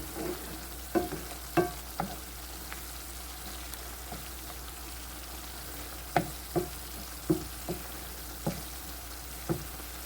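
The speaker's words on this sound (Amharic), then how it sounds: "በዚህ መልኩ ቆንጆ ሆኖ እየተቁላላልኝ ነው ያለው።" Garlic and ginger sautéing in a pan for ful, a soft steady frying hiss with a series of sharp clacks and scrapes as the mixture is stirred, clustered in two bursts.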